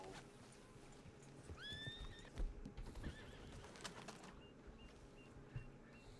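A horse in the Red Dead Redemption 2 video game gives a clear rising whinny, followed by softer snorts and faint hoof clops over a quiet outdoor ambience with distant bird chirps.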